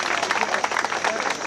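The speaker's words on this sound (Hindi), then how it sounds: "ताली बजा के आप लोग जरा इस कार्यक्रम की शोभा को बढ़ाइए" Audience clapping at a celebration marking Ajay Kushwaha's 50K Instagram followers, a dense steady patter of many hands that fills the whole short stretch, with voices mixed in underneath.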